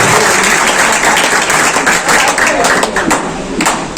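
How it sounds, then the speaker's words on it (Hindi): An audience at an Urdu literary event in Bhiwandi bursts into loud, vigorous clapping, with individual claps standing out toward the end and voices mixed in beneath the applause. "तो एक बार जोरदार तालियां हो जाए सब जोड़ा"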